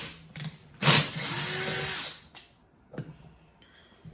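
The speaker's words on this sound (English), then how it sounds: "get a 7mm socket and remove the wheels" A power driver with a 7mm socket spins out the bolts holding the wheels on an Ambrosia Twenty drive unit, one loud whirring burst lasting about a second followed by shorter bursts and light mechanical clicks.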